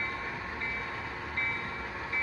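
A model train locomotive rolls into the yard at low scale speed with a faint, steady running rumble, a soft bell tone repeating at intervals, and no voices.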